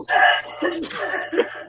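A single sharp sneeze bursts out at close range, framed by brief vocal sounds before and after it in an indoor setting.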